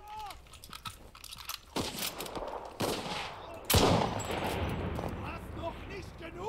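Gunfire in the Enlisted war shooter: repeated sharp shots and bursts, some close and loud, others scattered further off, under speech.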